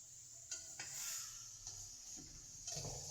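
Chicken with yogurt and spices fries in a pan for a creamy white karahi, giving a soft, low sizzle with a few quiet spoon strokes against the pan.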